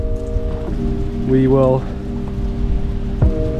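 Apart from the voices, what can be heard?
rain falling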